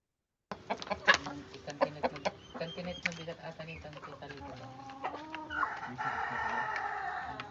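Chickens clucking and chattering close by, with irregular sharp calls and a busier flock murmur toward the end, no speech.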